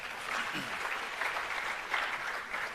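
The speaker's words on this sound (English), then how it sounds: "another big round of applause, ladies and gentlemen" Sustained applause from a crowd, steady clapping with slight swells, no voices over it.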